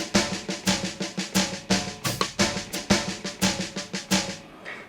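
Sequenced drum pattern with accented snare hits playing alone, loud and evenly spaced, about three hits per second with a punchy kick and bright snare cracks that vary in strength.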